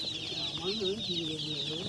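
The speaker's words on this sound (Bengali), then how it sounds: "ওইগুলোতে মুরগির বাচ্চা ডাকছে দেখছি" A flock of chicks in a rainy-season Sundarbans village gives a continuous run of thin, high cheeps, close by and soft, while a person talks quietly beneath them.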